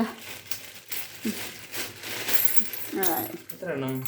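A coin dropping in a kitchen setting, a few light metallic clinks and crinkly rustles close by, with people talking around them.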